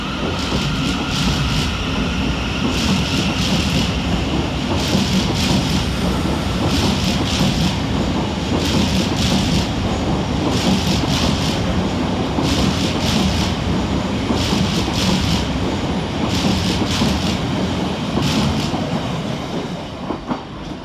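A Class 700 Thameslink train departs Redhill station, a loud, steady rumble of traction and wheels close by, with rhythmic clickety-clack beats repeating as the carriages roll over rail joints for the whole stretch.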